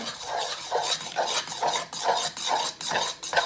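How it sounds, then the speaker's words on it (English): A thick, gloopy homemade science-experiment mixture being stirred, with steady rhythmic scraping strokes repeating about twice a second, close and moderately loud, with no voices. "You'll find it's harder to stir and it gets a bit thicker"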